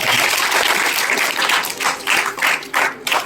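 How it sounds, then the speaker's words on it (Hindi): Loud applause from a school audience honoring students at a National Unity Day and parent-teacher meeting event, steady clapping that swells and breaks into uneven bursts toward the end. "एक बार उन सारे बच्चों के लिए जोरदार तालियां।"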